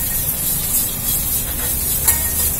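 Ridge gourd peel sautés in a hot pan with a constant, fairly loud hiss and sizzle, broken by a few soft stirring scrapes and one small tap near the end, with no voices.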